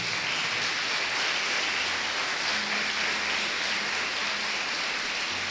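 A church congregation applauds during worship, a steady dense wash of clapping filling the space without a break, close and fairly loud, like a continuous roar.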